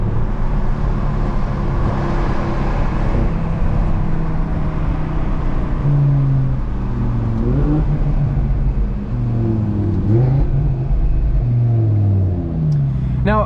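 Loud Audi RS3 exhaust drones and swells as the car accelerates through city streets in Boston, a steady close-up engine rumble that rises in pitch through the gears, with a voice speaking over it at points.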